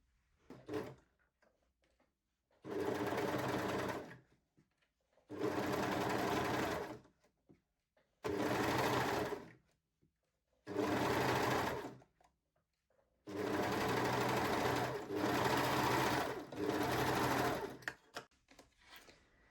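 A sewing machine stitches the second crotch seam of low-rise fold-over-elastic panties, running in six or seven loud, steady bursts separated by short pauses.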